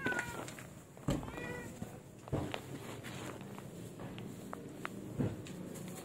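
A cat meows while being given cat food, with several short, fairly faint mews spaced a second or so apart over a quiet room and light shuffling sounds.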